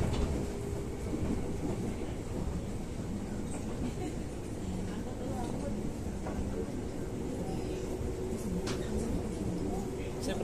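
Steady rumbling rattle of a commuter train in motion on the line to Nambu, heard from inside the carriage, with continuous low roar and occasional faint clacks.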